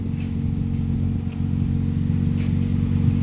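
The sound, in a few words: Toyota Vios engine revving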